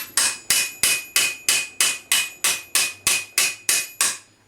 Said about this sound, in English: find the broader end of your hammer, just touch through the middle, supporting it all the time